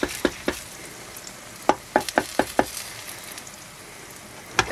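Egg foo young frying in a pan gives a soft steady sizzle, broken by a string of sharp clicks and taps from a utensil working around the pan, close up, without speech.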